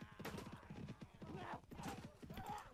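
Horse hooves clip-clopping at a quick riding pace in the video game Mount & Blade: Warband, a steady close rhythmic gallop with a brief whinny in the mix.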